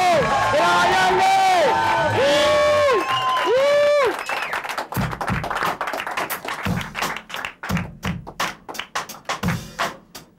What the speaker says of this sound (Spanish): ¡Un aplauso! ¡Vayanle!